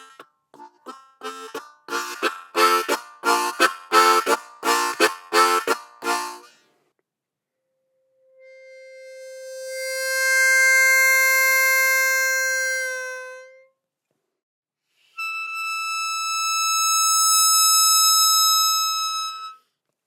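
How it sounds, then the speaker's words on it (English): Standard Hohner Crossover harmonica played from quiet to loud: a fast run of rhythmic chugging chords, then two long sustained notes swelling up and fading, played solo and close. "First, let's hear a standard crossover."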